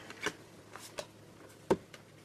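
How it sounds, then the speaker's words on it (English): Tarot cards being shuffled by hand, a few short papery riffles and taps spread across a couple of seconds, fairly quiet and close, with no talking. "I was trying to shuffle this card back into the deck"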